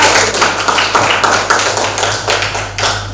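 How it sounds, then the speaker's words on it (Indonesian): A classroom group applauds a student team, a steady rapid patter of many hands clapping at close range over a low electrical hum throughout. "Kita beri aplaus untuk"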